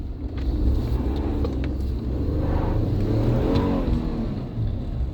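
A used car out on a road test gives off a continuous low engine rumble and road roar from inside the cabin, with a steady, even drone and slight swells as it drives.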